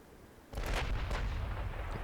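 Warship guns firing armour-piercing shells in the naval game Ultimate Admiral Dreadnoughts: silence, then a sudden heavy blast that stays as a loud, rolling boom and rumble with crackling bursts layered over it.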